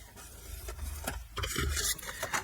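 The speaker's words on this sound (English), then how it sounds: "So just make sure that your top and bottom are lined up and burnish, and then this side as well." Close rasping rubs of a bone folder burnishing the crease of a manila file folder, several strokes building to a longer, louder scrape near the end.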